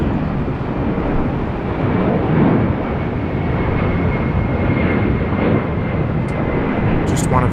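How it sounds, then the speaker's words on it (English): A Qantas Freight Boeing 767-300 jet departing Sydney Airport for Hong Kong, its engines producing a loud, broad, continuous roar throughout, with a voice commenting over the noise. "here's one of the fan favourites here, the Qantas Freight 767-300"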